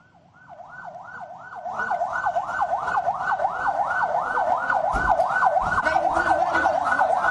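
An ambulance carrying students with food poisoning in Cipongkor, West Bandung, sounds a wailing siren that rises and falls steadily, growing louder as it approaches amid road traffic noise.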